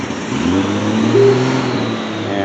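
A car engine idling on choke on a winter day, a steady mid-pitched hum with a faint whine, holding even and fairly loud with a slight swell midway; no one speaks.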